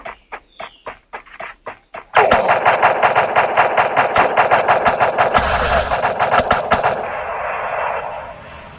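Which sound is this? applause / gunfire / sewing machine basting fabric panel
gunfire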